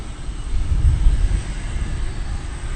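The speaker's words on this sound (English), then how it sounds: "going to San Francisco on the Airbus A321neo." An American Airlines Airbus A321neo at DFW airport gives off a steady, broad jet-engine rumble, fairly loud and continuous, swelling slightly near the middle, with no voices.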